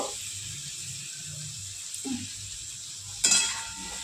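Tomatoes and green chilli frying in a pan for fish curry, a soft steady sizzle with a few spatula scrapes and one brief louder clatter, close but quiet.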